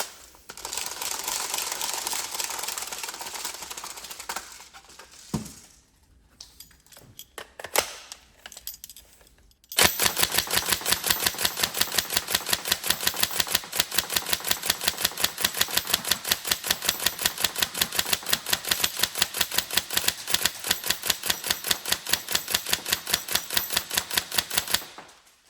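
A Tokyo Marui M4 SOPMOD NGRS airsoft gun fires full auto, a long fast run of sharp mechanical snaps at close range, after some shorter clicks and handling noise.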